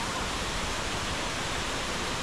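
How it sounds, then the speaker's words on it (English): Roadside Chinnakanal waterfall near Munnar, Kerala gives a steady, even rush of falling water, constant broadband roar with no pauses or other sounds over it. "you'll definitely enjoy these waterfalls, and it's on the roadside"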